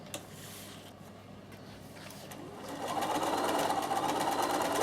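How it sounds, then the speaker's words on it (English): A sewing machine stitches a seam on fabric, first a quieter stretch, then a steady, louder continuous run of needle whirring from about three seconds on, close and alone. "And then I'm going to stitch this one as well."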